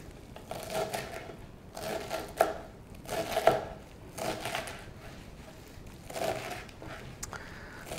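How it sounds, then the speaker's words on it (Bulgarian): A knife chopping a bunch of fresh parsley on a board for a salad with raw lyutenitsa and corn, heard as a run of soft, repeated cuts in uneven bursts, fairly faint. "започваме с рязането на магданоза"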